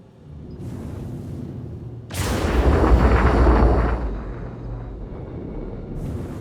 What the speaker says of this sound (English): See if I can get a good shot with the rockets.